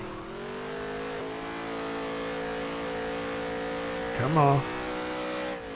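Stock car engine in NASCAR Heat 3 droning at a steady high pitch on track, with a brief sharp rev surge near the end and a short spoken exclamation over it.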